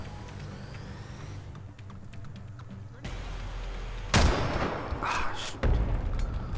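Sniper rifle gunfire in the online shooter Ghost in the Shell: First Assault: two loud, sharp cracks about a second and a half apart over steady in-game background noise, with a brief spoken exclamation early on.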